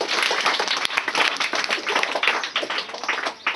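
An audience applauds a teacher at a school gathering, dense steady clapping from many hands, loud and close, fading slightly toward the end.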